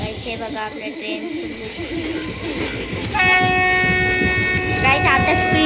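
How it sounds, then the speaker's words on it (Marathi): Rajasthan Express passenger train pulling into Madgaon station, with a loud sustained horn blast over steady rumbling of railcars and wheels, close by, while a person speaks over the noise. "बघा आपल्या ट्रेन."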